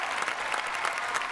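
An audience at a stage comedy show applauds a flute player, a short burst of dense, continuous clapping from many hands.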